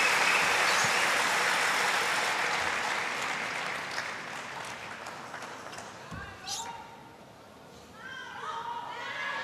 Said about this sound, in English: and the crowd show their appreciation.